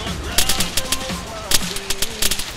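Rapid gunfire from ARMA 3 rattles in quick, loud bursts of close shots, with some distant tonal sounds beneath them.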